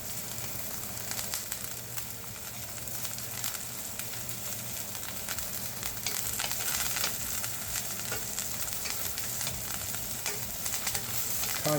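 Halibut sears in a pan with garlic, rosemary and thyme, giving a steady, close sizzle and crackle of frying that swells slightly midway and continues without talk.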